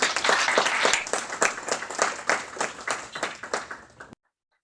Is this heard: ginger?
no